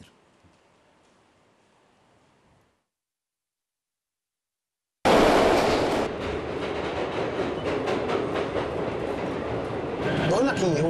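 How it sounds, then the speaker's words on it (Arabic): A metro train runs loudly on its rails after a few seconds of near silence, a dense rumbling roar with clattering and squeals close by. "مترو. مترو."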